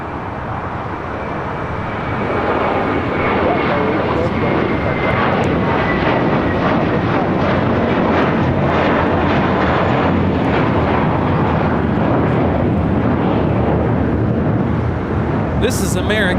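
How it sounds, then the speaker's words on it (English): An American Airlines Airbus A321 takes off at LAX for Dallas-Fort Worth, its engines building to a loud, sustained jet roar that fills the whole stretch, with a brief sharp click near the end. "This is American 2965 taking off to Dallas-Fort Worth on an A321"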